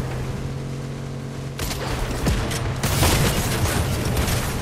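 Gunfire in the video game Fortnite: a burst of rapid shots and booming impacts over steady game ambience, loud and close, with a second flurry of shots toward the end.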